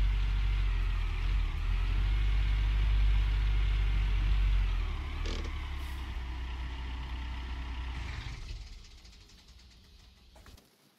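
Truck in Gold Rush: The Game driving with a steady low engine rumble, a brief higher hiss midway, then the engine drops off to a quieter idle near the end.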